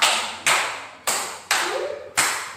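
Five loud, reverberant unison claps ring out from a classroom of pupils keeping count in a clapping game, evenly paced with short decays between them and a faint voice under one gap.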